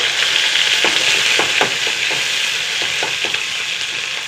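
Curry leaves hit hot oil alongside shallots, producing a loud, steady sizzle close up, with occasional stirring scrapes and pops over the frying hiss.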